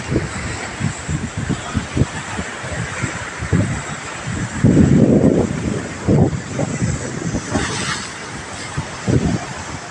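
Storm wind gusts and rough sea waves pound near a beach resort, a loud blustery roar with repeated surges of crashing water and heavy microphone buffeting.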